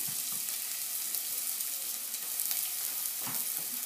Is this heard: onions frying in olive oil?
yes